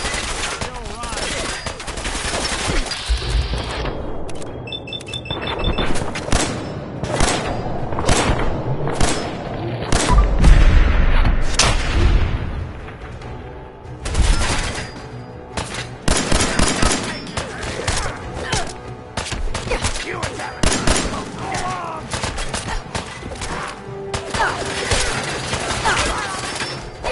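Video game gunfire in Fallout 4, dense bursts of automatic shots and thumping impacts going on throughout, loud and close, with brief spoken voices mixed in.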